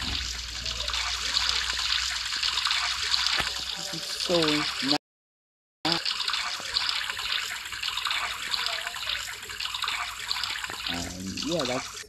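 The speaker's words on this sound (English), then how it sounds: "Let's take a shower right over here." Shower water running in the Roblox Brookhaven game, a steady splashing stream under a person talking, with a short dropout midway.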